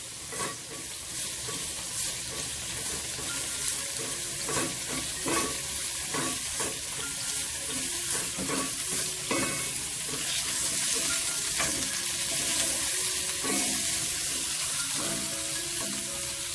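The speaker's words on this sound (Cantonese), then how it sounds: "蒜頭豆豉爆一爆" Garlic and fermented black beans stir-frying in a wok with bitter gourd and pork ribs, a steady loud sizzle with scraping stirs and clinks throughout, no talking.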